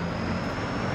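A TU-95 bomber flying overhead in a video game, a steady droning engine roar with a constant high whine, loud and unbroken for the whole short moment.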